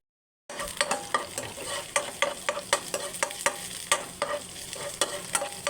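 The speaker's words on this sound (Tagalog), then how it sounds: "Gisa-gisa muna natin ang sibuyas at bawang hanggat mag-brown." Onion and garlic sauté in a pan for squid adobo, a continuous sizzle broken by regular sharp scraping strokes of a spatula, close and fairly loud, with no one speaking.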